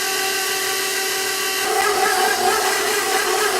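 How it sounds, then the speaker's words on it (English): A stand mixer beats sticky bun dough on low speed, a loud steady motor whir with harmonic hum that grows slightly rougher and busier midway as the beater works the dough. "Now beat the batter, the dough, on low speed."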